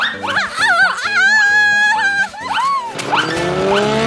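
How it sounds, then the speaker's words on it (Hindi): A cartoon scooter races along, its engine whining and revving in rising and falling tones under lively cartoon music, loud and close, with a skidding sweep near the end. "पकड़ो स्कूटर को जो उड़ा रहा है धूल, इससे पहले कि हो जाए गोल।"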